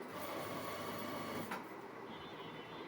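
A sewing machine stitching a polo shirt in a garment workshop gives off a steady, faint mechanical whir that continues without a break for about three seconds.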